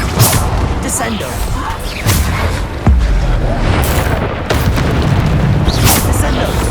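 Heavy booming impacts from spells in the Hogwarts Legacy video game, several loud thuds and crashes in quick succession, heard over a voice calling out spell names.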